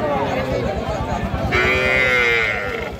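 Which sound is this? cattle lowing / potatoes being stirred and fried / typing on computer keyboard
cattle lowing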